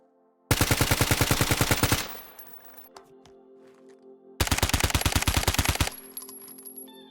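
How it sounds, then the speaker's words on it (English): Two bursts of rapid automatic fire from an EP5 rifle at 600 rounds per minute in STALKER GAMMA, each lasting about a second and a half, loud and close, with ringing echo and mechanical clinks in between. "That's why I'm gonna also show the EP5 which has a recoil control of 64, shoots slower than the AK at 600 RPM."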